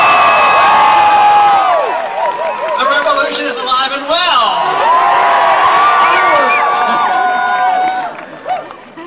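A campus crowd at Chico State University cheers, whoops and shouts in welcome, loud and close, with a speaker's voice coming through over the noise before it eases toward the end.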